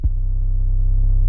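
A soft trap 808 bass note with a long tail booms deep and steady after a quick attack, sustaining low and warm throughout, alone and up close.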